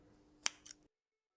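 Scissors snipping a portion of Hemianthus cuba aquarium plant: one crisp close snip followed by a softer second snap, quiet and alone, then silence.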